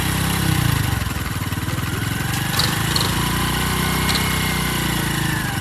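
A Honda Pop 110 motorcycle engine runs close and loud with a steady buzzing drone that rises slightly in pitch as it accelerates, with no voices over it.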